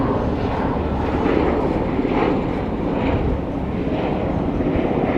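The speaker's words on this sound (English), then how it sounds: "There's like some kind of military helicopter overhead." A low, continuous engine roar of a military helicopter passing overhead, steady and fairly loud throughout.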